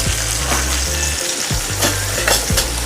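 Okra (bhindi) sizzles steadily in a pan as it is stirred for a masala bhindi dish, with repeated scraping strokes roughly every half second over a constant frying hiss; no one speaks.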